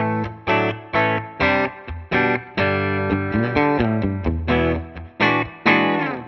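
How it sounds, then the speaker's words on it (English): A Suhr Classic T electric guitar on its single-coil bridge pickup plays a clean tone through a Tonex amp model, with distinct plucked chords and notes in an uneven rhythm, close and alone, each one decaying before the next. "We'll go back to the clean tone, start on the bridge pickup."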